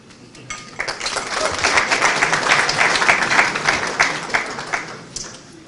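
An audience at a Conservative Friends of India lunch applauds, the clapping swelling to a steady peak, then thinning into scattered claps over a few seconds, with faint voices underneath.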